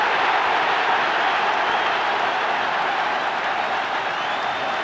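A football crowd at a Sunderland match roars in broad, sustained cheering and applause after a hat-trick goal, a dense wash of noise filling the stands with no break.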